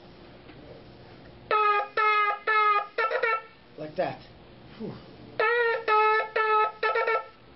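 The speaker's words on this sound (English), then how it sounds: "a shvarim trua would sound like this." A shofar sounds shvarim trua: a series of short, even blasts followed by quick staccato notes, then repeats the pattern, with a brief spoken phrase in between.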